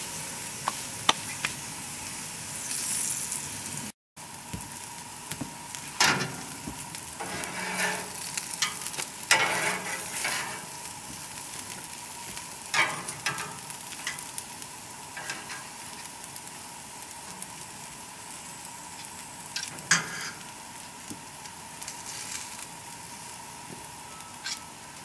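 Onions and vegetables sizzling on a grill for a vegetable platter, a steady, fairly quiet frying hiss with scattered pops, crackles and scraping stirs, no talking.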